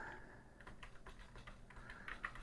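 Rapid keystrokes on an Atari ST / Falcon computer keyboard sound as a steady run of soft, close clicks, quiet and alone with no voices.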